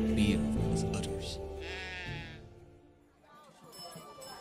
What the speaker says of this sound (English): The beer comes from Heidrun, a mighty goat.